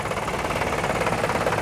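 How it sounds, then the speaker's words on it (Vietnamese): A 2007 Isuzu Hi-Lander pickup engine idles with a steady, even, low rumbling drone and a faint rhythmic pulse, close by, with no talking. "Đây các bạn, cái máy nổ rồi nha. Ha. Nhìn nó cũng rất là êm ha."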